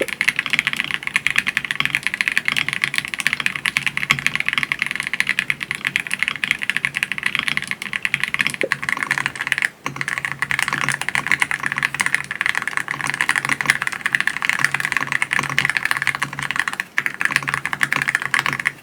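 Continuous fast typing on a customized Aula F99 mechanical keyboard fitted with silent switches, a dense, close clatter of muffled keystrokes with a couple of brief pauses.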